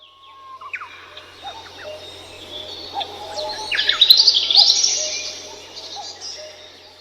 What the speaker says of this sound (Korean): 모든 새들은 어제와 같이 노래를 부르고